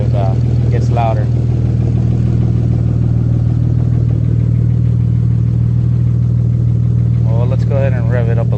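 Idling engine of an Acura 3G TL Type S under rebuild, a steady loud drone with a faint clatter, while someone talks near the start and end.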